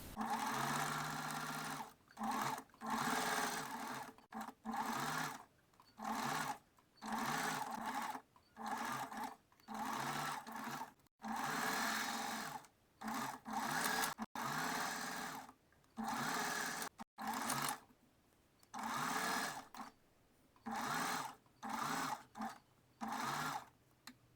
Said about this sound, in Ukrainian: Зараз це все збираю прямою строчкою.